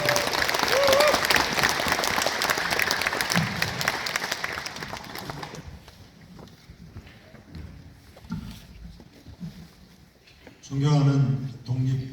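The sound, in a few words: audience applause welcoming mayor at ceremony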